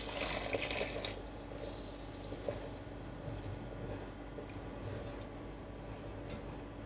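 Hot water poured into a pot of thick Nigerian ogbono soup, a steady close splashing pour that starts loud in the first second and settles into a softer, continuous trickle and bubbling.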